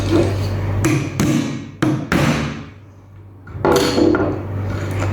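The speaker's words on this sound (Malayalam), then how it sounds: "ഈ ആണി കറക്റ്റ് ഈ ക്രോസ് വന്നേക്കുന്നിടത്ത് കറക്റ്റ് ആ പോയിന്റ് കൊണ്ടുവച്ചിട്ട് തറച്ചങ്ങ് വെക്കുക" A nail is hammered into a wooden piece for a handmade hanging light: several loud, close, sharp strikes in quick succession, a short pause, then another blow.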